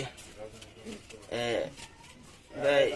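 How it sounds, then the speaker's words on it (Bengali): Low, soft coos of yellow-eyed pigeons repeat in short rolling phrases over a faint background, fairly close by. "হলুদ চোখের কবুতর"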